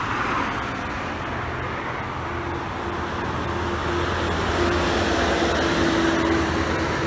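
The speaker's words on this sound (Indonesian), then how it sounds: "Bus pertama yang lewat" A Handoyo bus passes at a highway rest area, its engine a steady low drone over constant traffic and idling hum that swells slightly as it draws near, with no voices.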